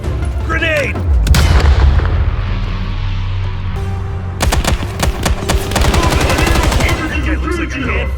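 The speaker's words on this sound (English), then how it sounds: "Grenade!" Grenade blast and heavy automatic gunfire in the Call of Duty Black Ops Cold War game: a loud boom, then rapid bursts of rifle and machine-gun fire. A shouted voice sounds amid the chaos.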